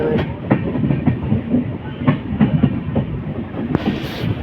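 The North East Express rolls along its tracks between New Jalpaiguri and New Alipurduar, with a steady low rumble and repeated rhythmic clickety-clack wheel beats, heard close from inside the carriage.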